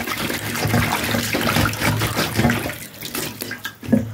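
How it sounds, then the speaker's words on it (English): Tap water runs steadily as vegetables are rinsed for Jamaican Spanish fry fritters, a continuous close splashing flow with small shifts as the produce moves under the stream. "Starting to wash my vegetable again."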